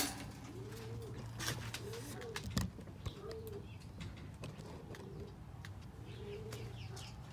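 Roller pigeons cooing softly in a loft, several low repeated coos close by with scattered chirps and light rustling in the background.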